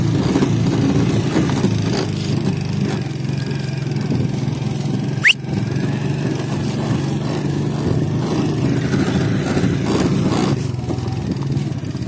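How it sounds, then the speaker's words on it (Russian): A motorcycle engine idles steadily outdoors in the countryside while rounding up horses, a constant low rumble running the whole stretch with faint wind and a brief sharp noise partway through. "Сейчас пока еще на мотоцикле."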